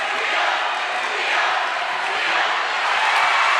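A dense, roaring crowd at a high school girls' basketball super-sectional game cheers continuously, a broad wash of noise that swells slightly and stays close and loud.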